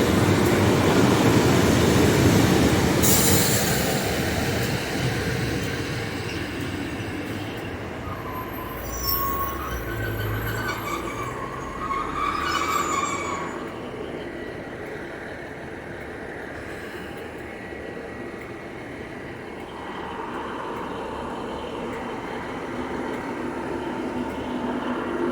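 A five-coach IET train passes at Starcross: a loud rumbling roar opens close by, then fades gradually as the train moves away, with faint metallic squeals and whines mixed in.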